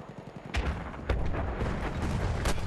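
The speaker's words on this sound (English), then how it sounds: "Hear machine gun fire close." Machine gun fire rattles in the Battlefield 1 video game, a close burst of sharp repeated shots over a dense, booming battle din, loud and alone.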